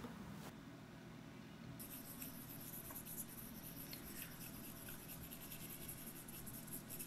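A colored pencil scratches across sandpaper, a faint, continuous gritty rasp of drawing strokes close to the mic with a steady background hiss.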